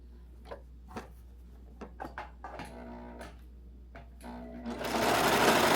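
Sewing machine running in short bursts, then a longer steady run, as layers of a tiered pleated mini skirt are stitched together with black thread; close and clear, with light handling clicks between bursts.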